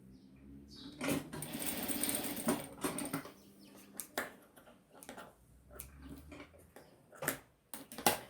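A sewing machine stitches fabric in short runs of rapid mechanical whirring, with pauses and small handling clicks between the bursts, heard close up with no talking.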